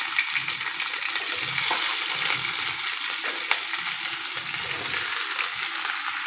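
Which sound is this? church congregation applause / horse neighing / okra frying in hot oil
okra frying in hot oil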